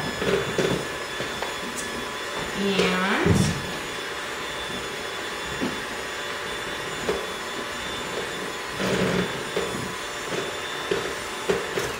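An electric mixer whips softened butter until fluffy, a steady whirring hum with a few louder surges as the beaters dig in, running alone without talk.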